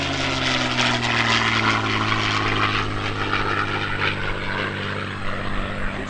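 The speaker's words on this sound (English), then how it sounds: "Here's the P-51 Mustang." A P-51 Mustang warbird passes at the 2013 Lehigh Valley Airshow, its piston engine and propeller giving a loud, continuous roar whose pitch slides steadily downward as the aircraft flies by.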